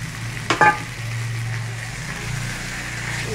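Pointed gourd pieces, already fried with cinnamon, cumin and chilli powder, hit a pan of spice paste with a short clatter and burst of sizzle, then a steady low frying hiss continues alone.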